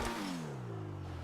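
Engine note of a car in GTA Online climbing through the gears, a steady revving tone that drops and rises again at a shift, with a brief burst of turbo blow-off valve release at the start.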